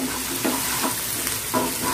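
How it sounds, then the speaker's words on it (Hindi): Onion and garlic fry in a pan while a spoon stirs them, a steady close sizzle broken by a few scraping strokes, with no talking. "प्याज के साथ लहसुन को भी पका लेंगे।"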